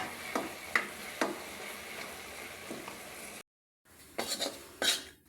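Utensil stirring carrot barfi mixture in a pan, a series of close scraping clinks against the metal over a low sizzle, broken by a brief silence before more clattering strokes.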